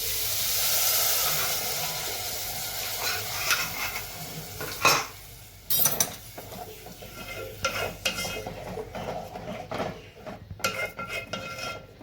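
Coconut milk is poured into a pot and stirred into sautéed rice for coconut rice, with scraping, clinking spoon-on-metal knocks and a soft sizzle and hiss running through, loud and close, no talking.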